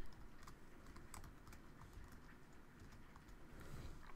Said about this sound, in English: we can go ahead and type in our school district